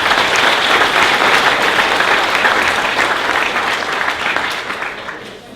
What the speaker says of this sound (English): Have a round of applause for